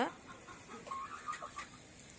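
Chickens in a home garden cluck faintly as rice is scattered for them, a few soft, short calls rising over a quiet outdoor background.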